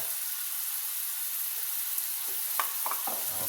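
Meat and bones browning in a salted pan for a Merlot meat sauce, a steady hissing sizzle with a few brief stirring knocks near the end, no talking.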